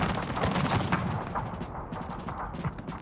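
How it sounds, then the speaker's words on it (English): Gunfire from the Total Fots Carlist War strategy game: dense, continuous crackling volleys of musket and artillery fire that hold steady and loud for about three seconds, with no voices. "they're still shooting at these guys"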